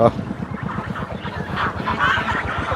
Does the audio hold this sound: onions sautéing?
no